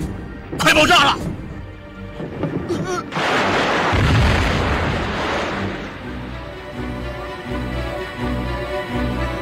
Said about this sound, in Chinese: 快爆炸了！